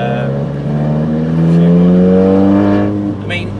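A 320 bhp Stage 3 Polo GTI with an IS20 turbo pulls hard under acceleration, its engine note climbing smoothly and steadily, loud and close, with a brief faint hiss near the end.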